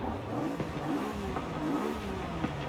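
A car engine revs steadily with rising and falling pitch, continuous and fairly close, as a game car accelerates while drifting in Forza Horizon.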